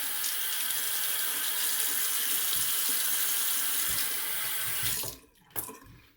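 Tap water runs steadily into a sink during a shave, a continuous broadband splashing rush that holds for about five seconds and then stops abruptly, followed by a couple of faint drips and clinks.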